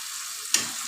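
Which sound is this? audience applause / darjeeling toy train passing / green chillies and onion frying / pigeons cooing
green chillies and onion frying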